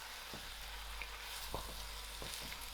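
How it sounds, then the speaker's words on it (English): Lamb meat frying with onions in a pot, a steady low sizzle with a few soft stirring knocks, quiet and continuous. "I'm going to throw in my lamb meat and allow this lamb meat to fry out"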